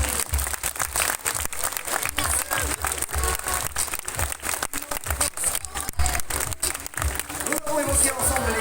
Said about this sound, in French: Et vous avez raison de les applaudir.